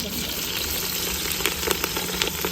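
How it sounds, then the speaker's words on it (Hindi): Green chilies frying in hot ghee in a village kitchen, giving a steady dense sizzle with scattered crackles and pops running throughout, close and fairly loud, with no talk. "चलो घी तड़क चुका है, इसमें मिर्ची ऐड कर दो"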